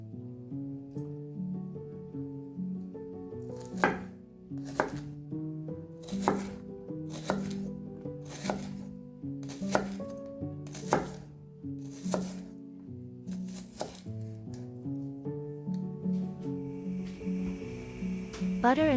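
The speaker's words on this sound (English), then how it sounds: "Chop the shallot." A knife chops shallot on a board in a home kitchen, a steady run of crisp, close knocks at an uneven pace over soft background music.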